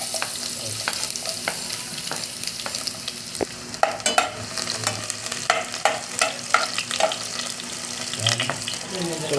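Garlic sizzles in a pan as the base for chicken tinola with native chicken, with a steady frying hiss under frequent scraping and stirring clatter from a utensil.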